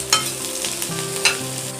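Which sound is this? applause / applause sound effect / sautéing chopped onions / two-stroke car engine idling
sautéing chopped onions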